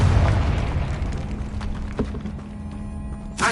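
In Hogwarts Legacy, a Confringo blasting spell detonates with a loud, deep boom at the start that rumbles down into a lingering low tail, followed by smaller thuds and a short burst near the end.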